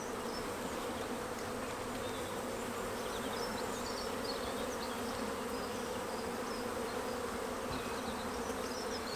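A dense, continuous hum of many honeybees flying around a hive close by, steady and unbroken with no voices.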